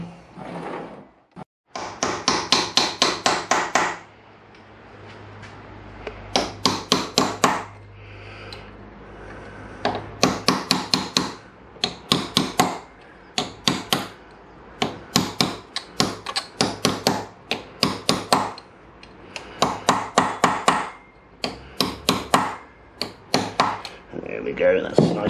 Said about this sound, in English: go and get my drifts and my chisel or whatever, and just bend the tabs back